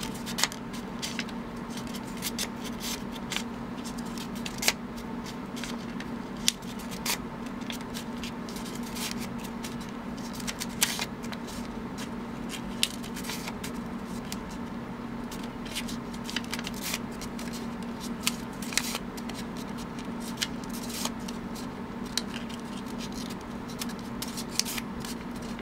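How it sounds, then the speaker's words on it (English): Paper strips being pleated and fanned into a rosette give a close, steady run of crisp crinkling and rustling, with sharp little snaps as each fold is creased. No one speaks. "Just start pleating and fanning the pages to make that half circle."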